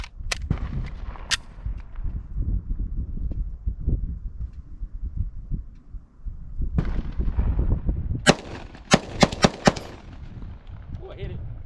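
Pistol gunfire from a Sig Sauer P320 X-TEN or Glock 20 at a shooting range, with sharp loud reports in scattered shots and then a rapid cluster of quick shots, over low rumble and handling noise.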